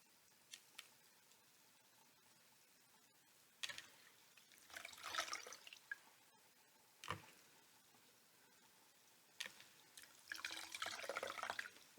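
Quiet running water from a tap splashes in intermittent bursts as powder cleanser is rinsed off, soft drips and trickles between the louder spells of flow, close and faint, with nobody talking.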